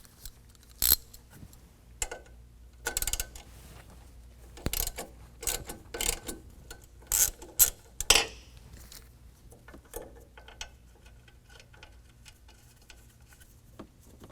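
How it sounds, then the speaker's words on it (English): A 12mm ratchet removes a bolt from an ABS line bracket on a 2022 Toyota Tundra. It makes sparse, crisp ratcheting clicks in short bursts, close up, with quiet gaps between them. "We're gonna use a 12mm and take off this bolt holding on our ABS line bracket."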